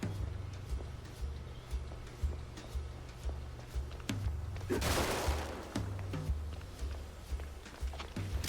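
Shotgun-wielding enemies firing in the cartoon noir shooter Mouse: P.I. For Hire: scattered sharp cracks and one louder, longer blast midway, all over a steady pulsing low music loop, with no voices.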